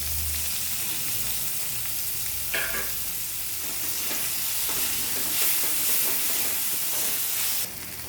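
Onions and tomatoes fry in a pan for paneer bhurji, a steady close sizzle and hiss with occasional stirring scrapes and a brief louder burst of spitting partway through.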